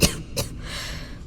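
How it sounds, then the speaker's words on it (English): A character in the Starfield video game coughs twice in quick succession, two harsh, close bursts followed by a rasping breath. "I've got this bad cough."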